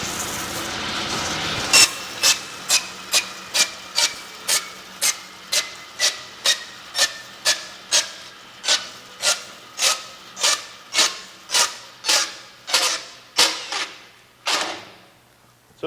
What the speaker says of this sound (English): So my saw is running full speed.